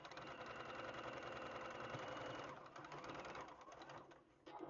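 A sewing machine stitches a quilt with a steady, slightly noisy mechanical hum and rapid needle rhythm, running continuously before slowing and stopping near the end.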